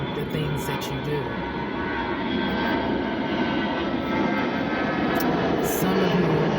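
A plane passes overhead as a steady, rumbling engine drone that swells gradually while someone speaks loudly over it.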